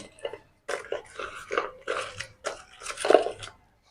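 Crisp fried nimki snacks crunched up close, a run of loud bites and chews in bursts separated by short pauses.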